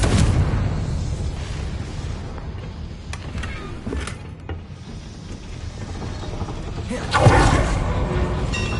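A Confringo fire spell bursts in Hogwarts Legacy, a loud booming blast with a hissing roar at about seven seconds, set over continuous rumbling game sound with earlier smaller thuds.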